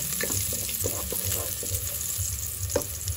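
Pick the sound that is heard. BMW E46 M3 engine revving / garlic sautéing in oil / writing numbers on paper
garlic sautéing in oil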